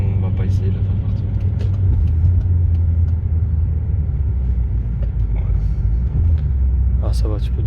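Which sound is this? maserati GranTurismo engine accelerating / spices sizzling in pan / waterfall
maserati GranTurismo engine accelerating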